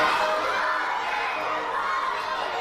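A crowd of fans at a festive contest in Perm Krai cheering and shouting together, a dense, continuous wash of many voices with children's calls mixed in, fairly loud and close throughout.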